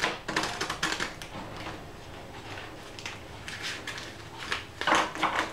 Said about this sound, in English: You're going to take your deck of cards and then you're just going to shuffle them around